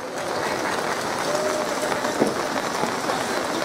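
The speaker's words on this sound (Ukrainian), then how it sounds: "Дякуємо оплесками славній вижниці." An audience applauds at the closing of the 25th international Hutsul festival in Yaremche, 2018: steady, dense clapping from a large outdoor crowd that holds at an even level throughout.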